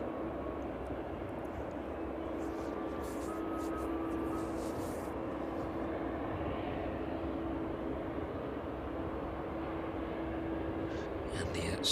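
Aircraft taxiing at East Midlands Airport, a steady low engine drone with a faint whine, continuous and moderately distant, with a voice talking over it.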